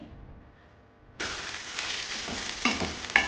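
Chili powder hits hot oil in a pan of okra curry, bursting into a loud, steady sizzle after a quiet second, with a few sharp spatula clinks near the end.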